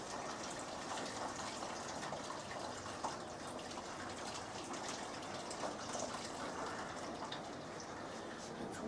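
Homebrew liquid pours through a colander on a brew day, a continuous gushing, splashing stream of water that stays steady and fairly close throughout, with no voices.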